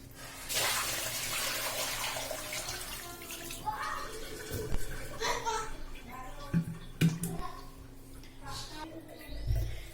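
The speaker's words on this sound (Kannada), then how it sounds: "ಈಗ ಈ ನೀರು ಚೆಲ್ಬಿಟ್ಟು ಬೇರೆ ನೀರು" Water is tipped out of a new clay pot after two days of soaking, a sustained splashing pour followed by intermittent drips and knocks while a person talks.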